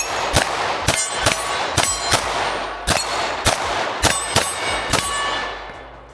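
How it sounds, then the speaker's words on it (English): Ruger RXM pistol fired in a rapid string of about a dozen sharp, loud shots at an irregular fast pace, each with a bright ringing tail, with no talking over them. "So let's shoot this RUGER."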